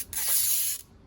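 A single short, harsh ripping hiss of polyester fabric being torn, lasting under a second, close and alone.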